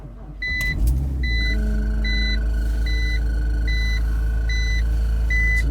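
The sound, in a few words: BMW X3 engine starting in freezing weather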